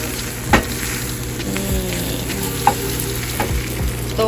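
An egg fries in a pan seasoned with salt and pepper, giving a close, steady sizzle with a few brief clicks and scrapes over it.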